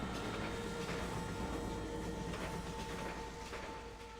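A train in the video game Red Dead Redemption on PS4 gives a steady, low rumbling run with a faint mechanical hum, fairly quiet and continuous with no talk.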